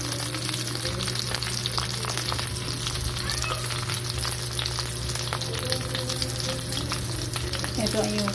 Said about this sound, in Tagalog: Guys, nagluto tayo ng eggs.